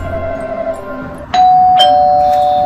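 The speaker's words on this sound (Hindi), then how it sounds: "ये रही घंटी।" A doorbell rings out loud and clear with two bright chimes, the tone lingering and ringing on after each strike.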